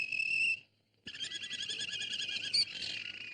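A canary trilling and chirping in bright high notes, a short pause, then a longer continuous warbling song, close and clear.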